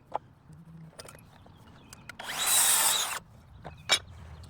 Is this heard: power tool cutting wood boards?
yes